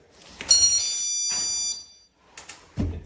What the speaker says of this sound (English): This is the chime alert.